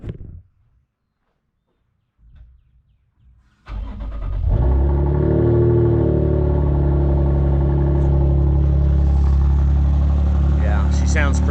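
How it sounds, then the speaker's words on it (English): A Toyota Tundra pickup truck does a cold start on an early morning: after near silence with a brief stir, the engine cranks and catches at once, then settles into a loud, steady, close rumbling idle. "Let's do a cold start on the Tundra."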